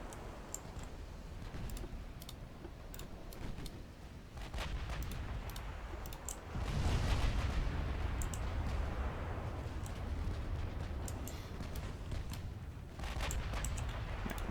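Naval artillery in Ultimate Admiral Dreadnoughts: shells fired at battleships, heard as scattered sharp reports and distant booms, with a louder rumbling burst midway over a steady low sea-battle background.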